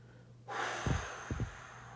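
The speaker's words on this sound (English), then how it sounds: "we'll start again with just letting all of our breath out" During a singing breath exercise, a person lets all their breath out in a soft, sustained exhale, with two short breathy puffs following, close and quiet.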